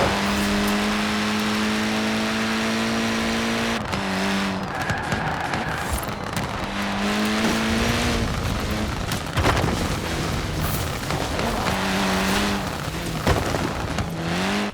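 A courtesy car driven in the racing video game Forza Horizon 4, its engine revving through repeated gear changes with rising and falling pitch, loud and close, along with occasional thumps and tire noise.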